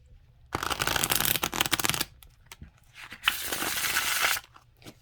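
Tarot cards with thin cardstock are riffle-shuffled close up, two quick fluttering bursts separated by a short pause and soft handling sounds.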